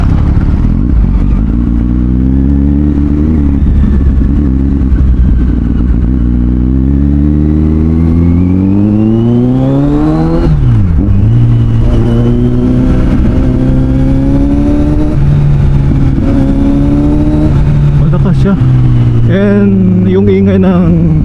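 A Kawasaki Z900SE motorcycle still fitted with its catalytic converter revs and pulls away on a wet road, the four-cylinder note climbing and dropping through several rises, loud and close with a muffled exhaust tone.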